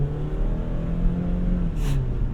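A front-wheel-drive car's tires slip in snow as the engine revs up with a rising whine, loud and close, with no voices.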